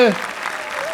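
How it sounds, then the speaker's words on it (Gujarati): A comedy show audience bursts into brief applause for Vaishali Harin Gohil; a voice is heard at the very start as the clapping begins. "એકવાર જોરદાર તાળીઓ થઈ જાય વૈશાલી હરીન ગોહિલ માટે"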